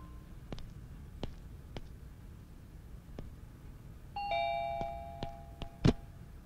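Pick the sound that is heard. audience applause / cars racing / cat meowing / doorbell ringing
doorbell ringing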